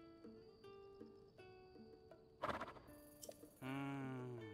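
A horse in Zelda: Tears of the Kingdom gives a loud, close whinny near the end, preceded by snorts and clip-clop hoof sounds over soft game music with chiming tones.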